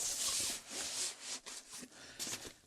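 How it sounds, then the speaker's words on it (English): A 15-inch MacBook Pro slides into a camera backpack with a few quiet, close-up scraping and rubbing strokes of fabric against the laptop. "I'll throw my 15-inch MacBook Pro in there."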